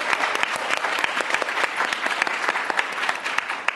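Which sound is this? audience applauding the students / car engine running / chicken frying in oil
audience applauding the students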